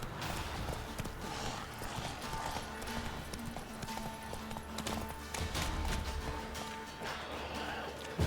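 Roach the horse gallops in The Witcher 3, hoofbeats clip-clopping in a steady rhythm beneath dense game music and ambience, with a brief whinny possible amid the continuous mix.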